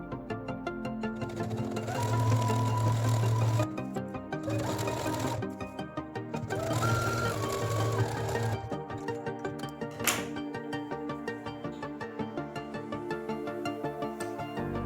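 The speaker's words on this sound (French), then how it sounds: "Et je vais coudre tout le long." A sewing machine stitches along a skirt pocket on a pompom-girl skirt, running in several loud rapid bursts separated by short pauses, then continuing more softly near the end, close up and with no talking.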